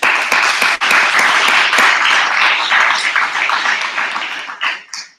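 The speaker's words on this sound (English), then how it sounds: "So just a quick clap to Jimmy." Brief burst of applause from an audience at a robotics signing day, a dense crowd clapping for a student that swells, holds steadily and fades out within a few seconds.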